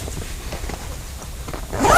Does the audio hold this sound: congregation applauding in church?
no